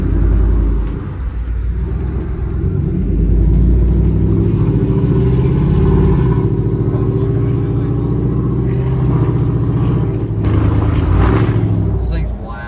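A lifted Chevy Z92 Silverado with a 5.3 engine revs and pulls with a deep rumble that rises and falls. The engine is loud and close, and people talk inside the cab over it.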